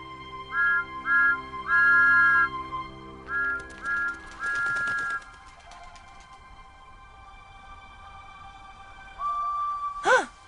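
Steam engine whistles from a Roblox Thomas and Friends game sound in several short toots, then one longer blast, and a final quick whistle near the end, clear and fairly loud against a quiet background.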